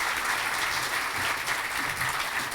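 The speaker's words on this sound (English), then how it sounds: "Give Kevin a round of applause" Steady applause from a crowd at a library opening fills the space, dense and continuous clapping with no voices standing out.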